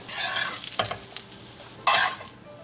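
Potato semolina cutlets frying in olive oil in a pan, a soft sizzle with two brief bursts of stirring or turning, close and quiet.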